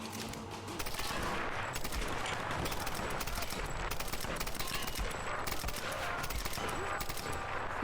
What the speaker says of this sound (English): I'm just shooting at them wildly, but it makes them fall off.